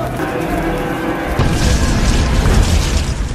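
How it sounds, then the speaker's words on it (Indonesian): A firecracker blast in the video game Resident Evil 7 sounds as a sudden loud boom that breaks in partway through and rumbles on to the end. "Dua Kopet pun bucat dalam sekali ledakan"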